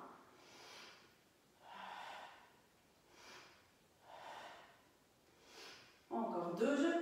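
Slow, steady breathing during a pilates exercise, five soft rhythmic inhale-exhale swells close to the mic, followed by a louder rough breath at the end.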